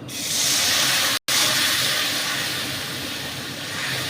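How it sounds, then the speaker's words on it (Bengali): Jaggery and a splash of water go into hot ghee on a low flame for healthy laddus, setting off a loud, continuous steamy hiss that breaks off for a moment and then carries on. "ঘিয়ে গুড়টা দিয়ে একটু জল দেব"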